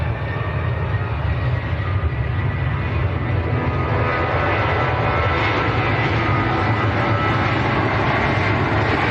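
Ryanair airliner at Manchester Airport, a loud steady roar of jet engines sustained throughout with a broad low rumble, no voices.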